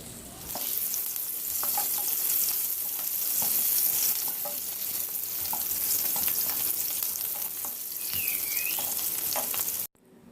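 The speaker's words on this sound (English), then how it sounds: "I will saute it until the onions becomes translucent or tender." Onions sautéing in hot oil for jollof rice and beans give a steady close sizzle with occasional soft stirring clicks, continuing unbroken until a sudden stop at the end, no voices.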